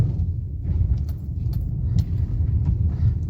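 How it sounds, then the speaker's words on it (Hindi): Rattling knocks from the left side of a new Maruti Brezza CNG as it drives over rough, potholed road, sharp intermittent clicks over a loud low road and engine rumble inside the cabin. "खट खट खट ऐसे आवाज आ रही है।"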